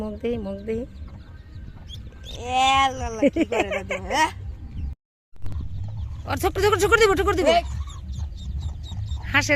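A mother hen clucks and calls in short bursts to a duckling she is raising, among other fowl honking nearby, with people talking over the background throughout.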